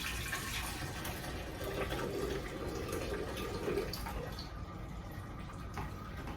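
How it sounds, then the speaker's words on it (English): Watermelon juice pours from a blender into a pitcher in a continuous splashing stream, a close, even wash of water-like sound that tapers slightly near the end. "I'm about to transfer this from here into the pitcher."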